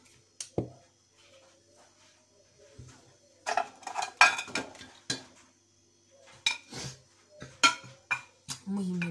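Apples and other fruit being cut for a fruit salad, with scattered sharp knife taps and light clatter of utensils in bursts against a quiet kitchen background.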